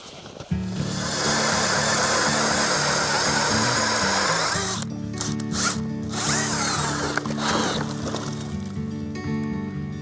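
A powered auger drills through about 20 inches of ice on the Saguenay Fjord, starting with a sharp kick, then a loud, steady engine drone with grinding and churning for about ten seconds, close up and with no talk.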